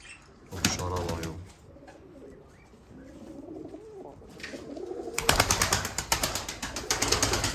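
Pigeons coo in a loft of a Turkish bird keeper, with soft repeated coos and occasional wing flaps up close, and a denser, louder burst of cooing and fluttering in the final seconds.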